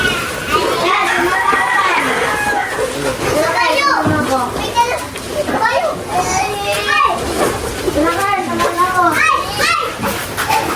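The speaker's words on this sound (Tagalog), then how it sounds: "At ang mga bata po ay eh, enjoy na enjoy sa paglalaro ng lobo." Children play with balloons, lively shouting, laughing and chatter of many young voices overlapping continuously and loudly close by.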